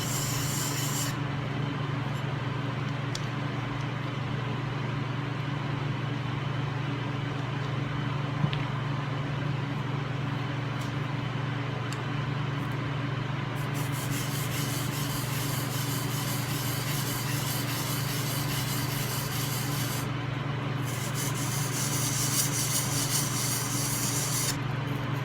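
A hand plane iron is rubbed back and forth on a sharpening stone, producing a continuous, even, gritty scraping hiss that stays close and steady with no speech.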